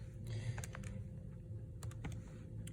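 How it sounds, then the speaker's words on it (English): Fingers tap a calculator keypad in a quick series of soft, close clicks, irregularly spaced over a low background hum. "In the calculator, I would recommend typing it in separately."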